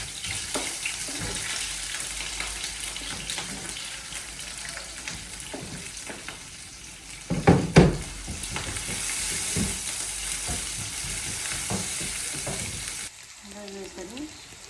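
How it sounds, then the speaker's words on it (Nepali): Chopped onion frying in a pan, with a steady close sizzle, scraping stirs and a louder burst midway, then running tap water briefly near the end. There is no talking. "र यो यसरी डार्क हुँदै फ्राई हुँदैछ।"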